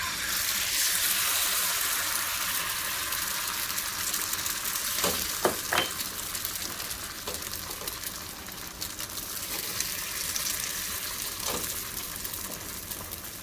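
An egg fries in a pan with a constant loud hissing sizzle, broken by a few sharp crackles and pops near the middle, no talking.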